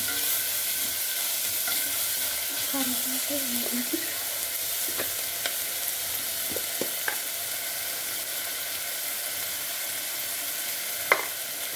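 Gokarkay curry fries and gets stirred in a pan with curry leaves and salt, giving a steady close sizzle broken by scattered scraping clicks from the spoon.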